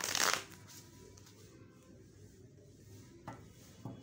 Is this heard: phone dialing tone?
no